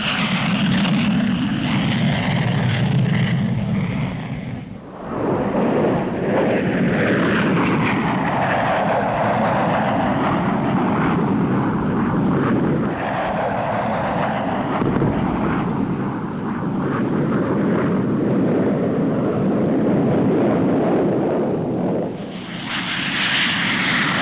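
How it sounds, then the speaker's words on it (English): Supersonic Voodoo and Sabre jet fighters flying at high speed, their engines producing a loud, continuous roar that rises and falls as they pass, with a brief dip partway through. "The supersonic Voodoo and Sabre fly today at 600 miles per hour, only half the Voodoo's maximum speed."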